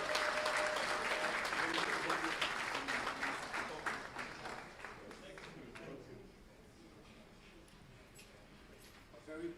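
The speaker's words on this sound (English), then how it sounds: "Please give him a warm applause." A conference audience at a Liberia diaspora gathering applauds as Dr. Emmett Dunn comes to the stage, a strong burst of clapping that thins and fades out over several seconds.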